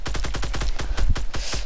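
A rapid string of around a dozen loud, evenly spaced gunshots rattles out in a Fortnite Battle Royale match, close and punchy, with a short pause before the last couple of shots.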